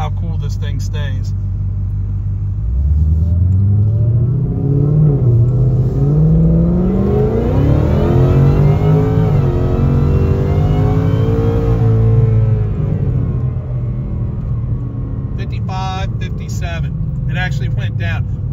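A supercharged Ford Mustang engine is revved at wide open throttle, a loud close rumble that climbs steadily in pitch, holds high, then settles back to idle, with a voice talking at the start and end.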